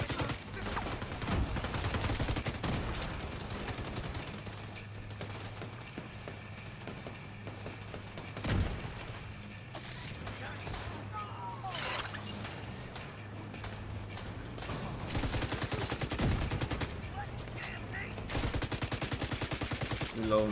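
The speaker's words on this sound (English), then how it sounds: "Bro, I'm shooting this man" Rapid bursts of automatic gunfire and scattered single shots in The Division 2 during a stronghold fight, rattling in clusters across the stretch at moderate level with faint background game sounds.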